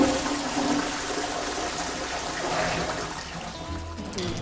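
A toilet flushing in a cruise ship balcony stateroom aboard Dream Cruises' World Dream, a steady close rushing of water that holds for the whole stretch and starts to change near the end.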